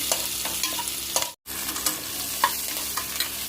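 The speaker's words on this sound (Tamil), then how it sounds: "எல்லாத்தையும் போட்டு நல்லா வதக்கிக்கணும்." Ingredients for coconut rice being sautéed in a pan, a close, steady sizzle with repeated scraping strokes of a spoon and a brief drop to silence partway through.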